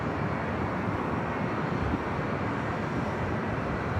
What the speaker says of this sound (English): This is the flight coming in from Omaha, Nebraska, A320 at Legionnaire.